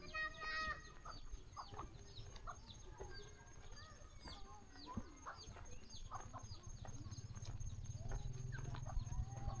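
Chickens cluck and squawk repeatedly nearby in a rural village at evening, scattered calls overlapping over a low background rumble, with no one speaking.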